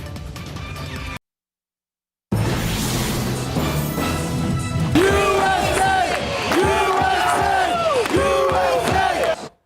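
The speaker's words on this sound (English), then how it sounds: "the Crocketeers, who cheer on local soccer San Antonio FC, gathered for a watch party to cheer on USA taking on Wales" Crowd of Crocketeers, San Antonio FC supporters, roaring and chanting at a downtown barbecue bar watch party for USA versus Wales, loud rhythmic shouted chants rising and falling after a brief silent gap, with clattering bangs mixed in.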